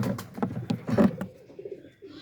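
A mother pigeon coos near its nest of two chicks in a short series of soft, throaty pulses, then falls quiet against faint background noise.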